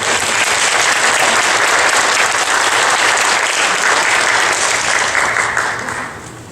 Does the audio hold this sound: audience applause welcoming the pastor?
yes